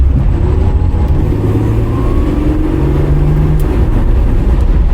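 A 1973 Jaguar Series 2 short-wheelbase car with its straight-six XK engine accelerates under load, a loud, steady mechanical drone whose pitch climbs gradually as the revs rise, heard without talking.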